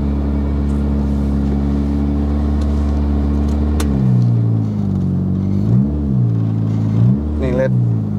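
Idling and revving engines at a busy petrol station in Singapore crowded with motorcycles, a steady low rumble that drops away before several short rising revs, while people talk nearby.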